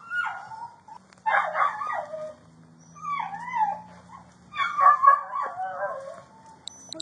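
An American pit bull terrier whimpers and whines in high, wavering cries, several drawn-out bursts separated by short pauses, close and fairly loud with a low hum underneath.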